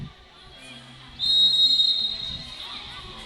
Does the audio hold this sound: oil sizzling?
no